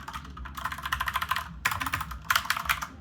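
Quick bursts of typing on a Corsair Huntsman Mini keyboard, close and crisp, in several rapid runs of keystrokes broken by brief pauses, with no talking.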